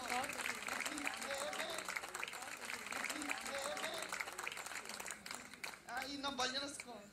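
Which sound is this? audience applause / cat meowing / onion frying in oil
audience applause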